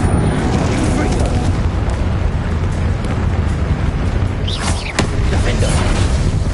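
Booming, rumbling spell blasts fire in a fantasy wizard video game duel, a dense low roar running throughout with a sharper crack near the end, voices calling out over it.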